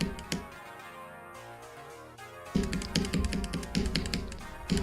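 Rapid clicking while playing a video game, a dense run of sharp taps like keyboard or mouse presses, sparse at first then a steady fast burst over upbeat game music; no talking.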